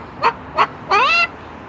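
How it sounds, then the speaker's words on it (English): A dog out on a walk gives two short woofs, then a longer drawn-out bark, loud and close with nothing else happening in between. "Oh, a woof and a bark."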